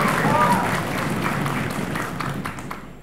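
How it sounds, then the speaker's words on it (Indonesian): Applause from the audience at a high school quiz competition, honoring the jury panel: a steady wash of clapping that thins toward the end, with some voices mixed in. "tepuk tangan untuk Dewan Juri"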